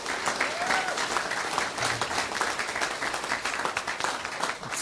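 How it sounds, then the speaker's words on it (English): A council chamber audience applauds a high school wrestler in a steady, even burst of clapping that holds throughout with little voice over it. "A round of applause."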